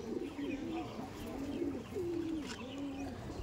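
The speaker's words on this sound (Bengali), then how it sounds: "চটিয়াল পায়রা ছিল কিন্তু, দেখুন" A pigeon coos up close in a repeated, rolling rhythm, several low throaty calls in a row over faint background noise.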